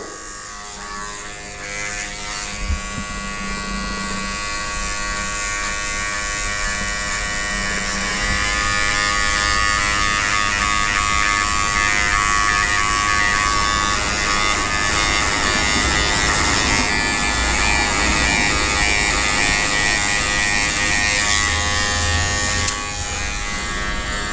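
Electric hair clipper buzzing continuously up close while cutting a skin fade, a steady high-pitched motor drone that shifts in tone as the blade works through the hair.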